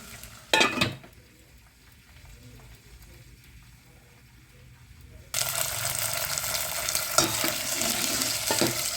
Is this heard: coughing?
no